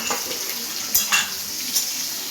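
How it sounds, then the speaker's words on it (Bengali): Cauliflower frying in ghee in a pan, a steady soft sizzle with a few louder crackles and pops, close by, no voices. "ফুলকপিটা ভাজা হচ্ছে"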